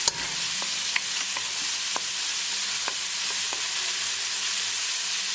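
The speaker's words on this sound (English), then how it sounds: "Keep it moving and keep cooking until the onions are nicely translucent." Onions frying in a pan with ginger and garlic for a lemon chicken drumstick curry, a steady broadband sizzle with occasional stirring clicks and utensil taps, close and continuous without talk.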